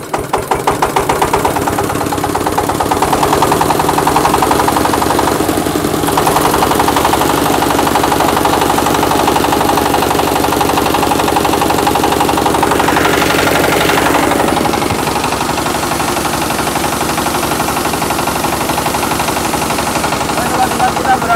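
Maktani MT212 rice milling machine running in Kulon Progo, its engine chugging loudly and steadily with a rapid knocking, machine-gun-like beat, with voices talking over it.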